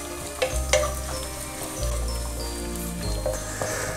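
Coconut pieces fry in a pan for a village-style chicken curry, giving a steady sizzle with a low hum underneath and a few sharp clacks of stirring, close and continuous.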